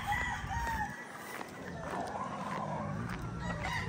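Chickens cluck and a rooster crows at a moderate distance on a farm, the calls rising and falling over a few seconds of outdoor background.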